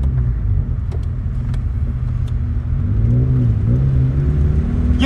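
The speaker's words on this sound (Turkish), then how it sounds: "Araba gaza basın." A petrol car's engine drones steadily, then revs up with a rising, whining pitch as the car accelerates. It is loud and close, with no talking.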